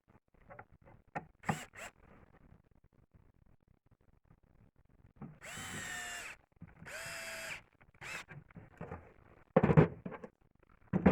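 A power drill drives screws into wood and plywood in two short whirring bursts, surrounded by scattered knocks, clicks and handling noises close by.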